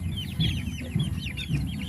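Chickens cluck in quick, repeated bursts at close range, with no talking.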